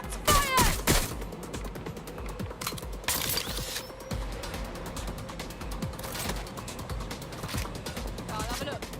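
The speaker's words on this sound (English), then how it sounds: "Shots fired." Gunfire in the video game Watch Dogs: Legion: a dense cluster of sharp shots at the start, then more scattered cracks over a steady mechanical, clattering game soundscape.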